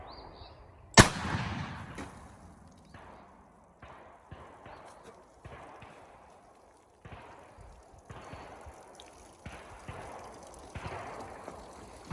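A Colt Dragoon revolver fires one sharp, loud shot into water jugs during an outdoor test. Scattered softer knocks and clatters follow over the next several seconds.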